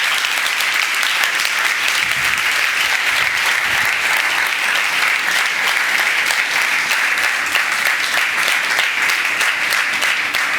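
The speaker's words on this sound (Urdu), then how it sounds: "ان کے لیے تالیاں بجاؤ" A church congregation applauds the volunteer helpers at a pastor's sermon, with loud, continuous clapping that holds evenly from start to finish.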